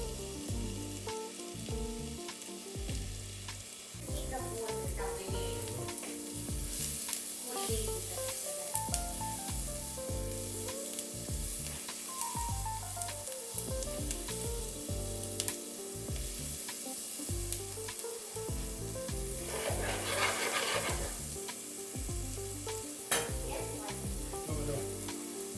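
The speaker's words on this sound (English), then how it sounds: "Sauté everything together in the browned butter on medium heat for about 5 minutes, then add the liver." Chicken liver pieces and mushrooms sizzle steadily in browned butter over medium heat, a continuous frying hiss with intermittent scraping and stirring from a spatula.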